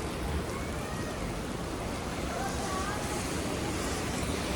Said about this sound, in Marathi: विदिन अ सेकंड पाऊस बघा किती जोरात आला